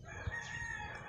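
A game fowl rooster crows in a backyard, a short faint call over quiet background with a low thump near the start.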